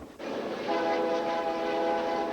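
A passenger train rolling across Canada near the US border, a loud, steady mechanical rumble with a sustained tonal horn-like hum rising after a sharp onset, close and continuous.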